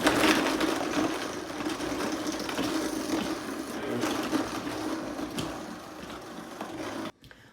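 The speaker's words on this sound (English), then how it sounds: "We're going to start off on a low speed and then kind of crank it up to get it all blended." Countertop blender working frozen açaí bowl ingredients, a continuous dense grinding whir that holds steady for about seven seconds before cutting off abruptly.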